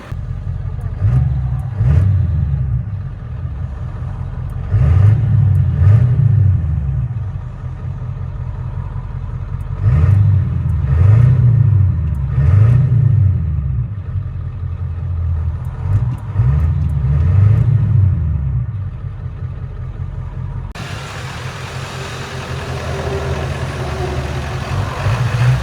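From inside the cab, a 1997 Ford F-350 with a 7.3L turbo diesel, straight pipes and an 8-inch tip rumbles loudly, repeatedly revving up and settling back to a deep idle in regular cycles.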